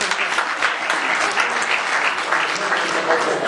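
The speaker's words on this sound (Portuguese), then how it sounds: "Palmas." Audience at a national literature conference breaking into sustained applause, a thick, even roar of clapping hands close by with no pauses.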